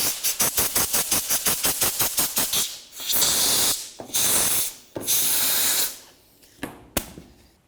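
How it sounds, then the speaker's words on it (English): Compressed air blasts clearing debris around the fuel pump area of a 2007-or-later Toyota Tundra: a rapid train of short hissing bursts, then several longer loud sprays separated by pauses, close up. "we're going to continue on to spraying this area off with air so we can remove any of the debris"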